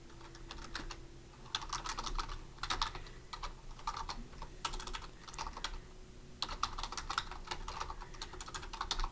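Typing on a computer keyboard while writing Java code, quick bursts of close key clicks separated by short pauses over a faint steady hum, with no talk.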